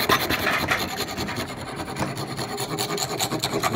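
A hand file rasps against a menorah in a craftsman's workshop, close and loud, with quick rhythmic back-and-forth strokes that scrape continuously.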